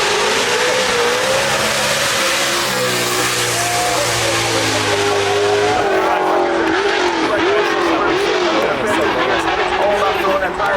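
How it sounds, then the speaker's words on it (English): A big NASCAR V8 race car at the Goodwood Festival of Speed roars loud and steady, with revs climbing and falling and tires squealing, while other voices are heard throughout. "It's a big old NASCAR V8."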